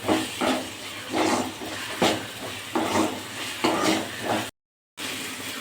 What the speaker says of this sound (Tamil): இப்போ இஞ்சி பூண்டு வதங்கிடுச்சு நல்லா.